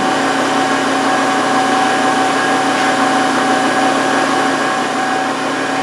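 An electric motor driving an LT230 transfer case on a test rig runs flat out with the diff lock engaged, giving a loud, steady high-pitched whine with a constant tone and no variation.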